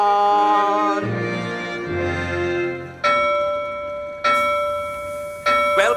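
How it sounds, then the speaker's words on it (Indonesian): A harbor bell in a musical stage production rings in loud, ringing strikes, with a few clear tolls spaced about a second apart over sustained tonal music. "Bel pelabuhan telah berbunyi."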